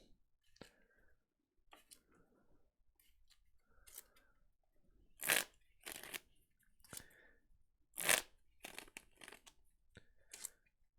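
A deck of cards being shuffled for a Pokémon card game, a series of sharp riffling bursts and soft clicks spaced out over several seconds, close and fairly quiet with no talking.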